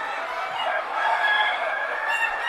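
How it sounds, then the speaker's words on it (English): A dun grizzly rooster on a feather-genetics farm gives a single sustained crow, loud and close, over a quiet background. "So here's a dun grizzly rooster."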